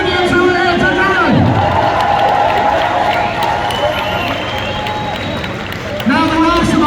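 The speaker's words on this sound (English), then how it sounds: "Let's have a big cheer for all the Palestinians who are here today." A crowd at a Palestine protest in Manchester cheers and shouts in a loud, continuous outdoor roar, with a voice speaking over the noise.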